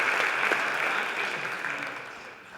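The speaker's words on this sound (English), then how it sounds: "So round of applause for them and what they did for us." Audience applause at a school jazz concert featuring a guest artist and students, a dense, steady burst of many hands clapping in a hall that fades away over a few seconds.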